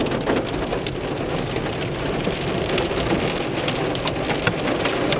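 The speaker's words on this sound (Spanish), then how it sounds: "Es granizo, la neta, se venga muy cabrón y suena muy cabrón." Hail pounding a car crawling along at about 20 km/h, a dense, loud, continuous patter of sharp impacts on the metal and glass with low rumbling underneath, steady throughout with no voices.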